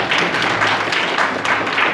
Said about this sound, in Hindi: बधाई आप सबके हो तो बड़ी जोरदार तालियां मिलती हैं